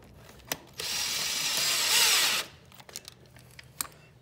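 A power drill whirs for about two seconds, driving in a 12 millimeter bolt during a Banshee clutch adjustment, with sharp clicks and taps before and after.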